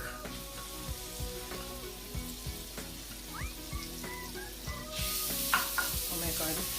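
Minced garlic sizzling in melted butter in a pan for garlic butter shrimp, a steady soft crackle with occasional stirring clinks, growing louder and hissier near the end.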